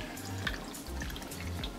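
Water, about half a tumbler, trickles and drips into a cooking vessel of spiced meat, a faint splashing pour heard up close with no one speaking.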